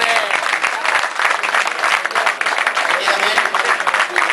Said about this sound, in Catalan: A tots ells demanaria un fort aplaudiment.